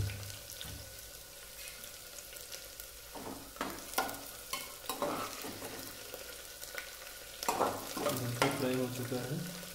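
Chopped green chillies fry in a pan for mutton masala, a soft, fairly quiet sizzle broken by intermittent scraping stirs that grow busier toward the end.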